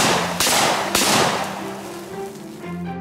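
A shotgun fires two Dragon's Breath magnesium incendiary rounds: two sharp, loud blasts about half a second apart, each followed by a crackling, hissing burn that slowly fades into a low rumble.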